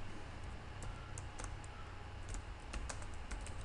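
Typing on a computer keyboard while setting up a DataSnap project in Delphi, a steady run of light, irregular key clicks over faint background hiss, close and fairly quiet.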